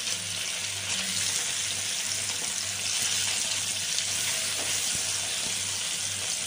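Paneer pieces sizzle in a hot pan for paneer bhapa: a close, steady, even frying hiss with no voices, holding at the same level throughout.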